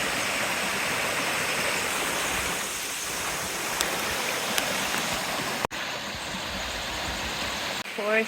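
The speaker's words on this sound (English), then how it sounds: "Forest bathing in its truest form right here by the waterfall." A forest waterfall on Vancouver Island roars close by as a steady, broadband rush of falling water, with a couple of brief knocks and a short voice near the end.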